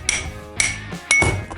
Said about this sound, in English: tapping the ring gear down.